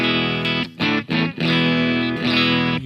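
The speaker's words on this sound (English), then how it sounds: "when I'm using this patch and I punch in a distortion" Electric guitar played through a distortion patch on a Mooer GE300 multi-effects unit with delay attached, a few loud sustained chords and notes with brief gaps between them, close and alone.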